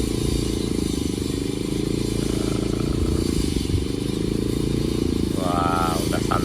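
A Honda CBR motorcycle rides past on a road, its engine a steady loud drone with rattling and clatter throughout, and a brief whistling tone near the end.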